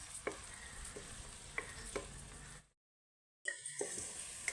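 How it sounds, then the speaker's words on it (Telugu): Ginger garlic paste fries in oil in a pan for a coconut-milk fish curry, giving a steady faint sizzle broken by sharp stirring scrapes and clicks, with a brief silent gap before the frying resumes. "ఇదిగో అల్లం వెల్లి ముద్ద పేస్ట్ ఇది బాగా వేపుకుందాం"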